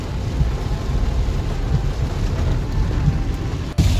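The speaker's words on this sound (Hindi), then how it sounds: "काफ़ी तेज़ बारिश हो रही है" Heavy monsoon rain in Goa pours steadily as a dense, loud roar with low rumbling mixed in, heard close from inside a car, with a sharp click near the end.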